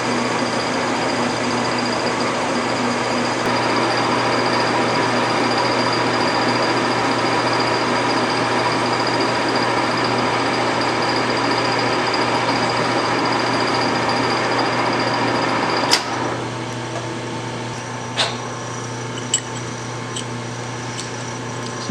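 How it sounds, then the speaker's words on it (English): A reamer cuts slowly on a horizontal milling machine, giving a steady, even mechanical whine and drone that runs continuously, then quiets partway through, leaving a few sharp clicks and taps. "So I'm just going real slow, letting this reamer do its thing."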